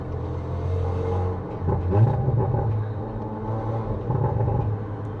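An Audi RS4 rated at 331 kW, fitted with an aftermarket downpipe, rumbles steadily as it drives through a city, a loud continuous low engine drone that swells slightly midway with no talking.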